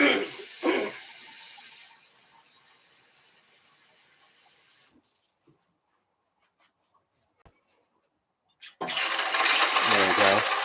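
Warm water is poured into a cast iron pot while making corned beef. It comes as a loud splashing burst at the start, a near-silent gap, then a longer, stronger pour at the end, with a voice present.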